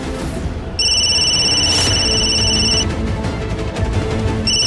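A telephone rings with a sustained electronic bell tone, sounding once for about two seconds and starting again near the end, loud and clear over a low room background.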